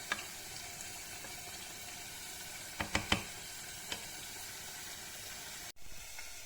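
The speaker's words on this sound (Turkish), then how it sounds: "Pirincimizi mutlaka biraz kavuruyoruz" Rice toasting in a pan for a liver maqluba pilaf, a steady soft sizzle and hiss throughout, with a few brief clicks and scrapes near the middle and a short break near the end.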